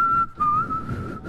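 A person whistles one sustained, slightly wavering tone, close and clear, with a short break partway through.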